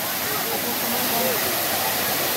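Waterfall in Bonito, Bahia, a constant loud broadband rush of falling water filling the whole scene, with people talking faintly beneath it.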